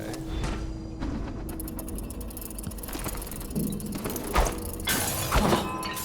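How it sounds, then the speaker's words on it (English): Glass shattering in the video game Dishonored 2, set in Dunwall, with sharp crashes and tinkling debris amid clattering mechanical noises, moderately loud and repeated in bursts across the scene. "That sounded like broken glass."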